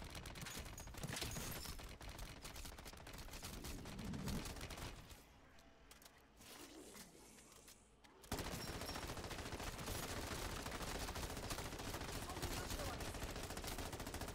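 Sustained automatic fire from an M13B rifle cutting down zombies in MW3 Zombies, dense and continuous, dropping briefly to a quieter stretch before the heavy shooting resumes.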